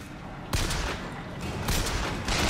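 Gunfire in Bioshock Infinite comes as sharp, loud bursts of shots spaced across a couple of seconds, with a dense rumble between them and no talk over it.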